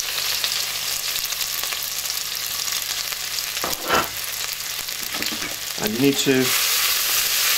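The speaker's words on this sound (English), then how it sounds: "once it's heated up you need to add the spices. So we start with the ginger, and then add in the dried spices." Ginger and dried spices sizzle hard in a hot deep pan for aloo gobi, a loud, continuous frying hiss with brief stirring scrapes. A voice speaks briefly over it.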